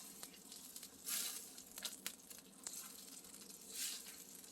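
Salmon in tomato sauce bubbles after baking, a faint, close hiss with soft popping and brief bursts of sizzle, quiet overall and with no talking.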